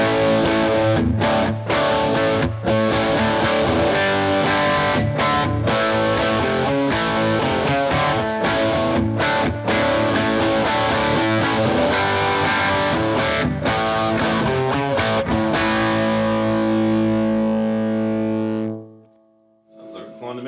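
An electric guitar through a Jackson Audio Optimist overdrive pedal plays a driving chord riff with a gritty, saturated tone, ending on a sustained chord that decays away.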